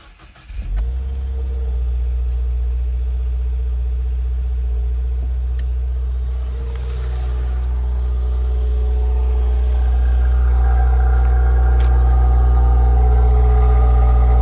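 A Subaru WRX with its stock exhaust cranks and fires up, then settles into a steady, deep idle that holds loud and even, with a slight rise in pitch toward the end.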